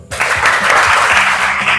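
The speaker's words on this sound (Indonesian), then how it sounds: "Tepuk tangan dulu." Classroom applause from a group of students, dense steady clapping that starts abruptly and fills the room at close range, with faint voices underneath.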